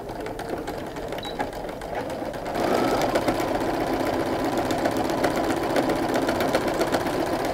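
A sewing machine stitches a patchwork quilt block, at first a softer whir that steps up to a louder, steady rapid mechanical buzz of needle strokes, running alone without talk.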